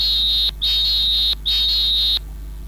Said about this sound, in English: let's take the final whistle on the show this morning.